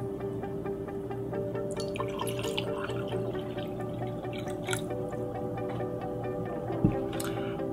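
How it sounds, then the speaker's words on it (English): Unfiltered tap water poured into two glasses, a faint trickling and dripping over a steady background hum, with a small clink near the end. "Unfiltered tap water, which we will pour in two glasses."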